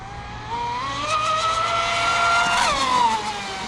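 A Pursuit RC boat running on a 6s battery at quarter throttle gives a steady, fairly loud electric motor whine that climbs in pitch, peaks briefly, then eases back down, with no talking.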